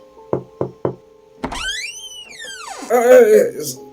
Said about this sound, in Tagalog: Kumatok ka.